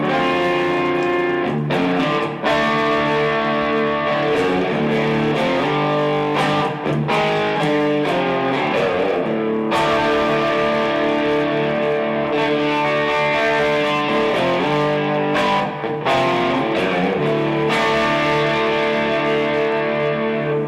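An inexpensive Fender electric guitar plays through a Boss SD-1 distortion pedal, producing loud, gritty strummed chords and riffs that continue unbroken for about twenty seconds with no talking.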